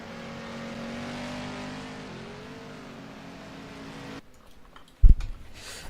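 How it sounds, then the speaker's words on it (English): A stock car does a burnout in a racing video game set at Daytona International Speedway. The engine roars at sustained high revs and shifts pitch midway, then cuts off abruptly. A single sharp thump follows in the quieter tail. "And Jackson burning it out here. Slightly unoptimal burnouts."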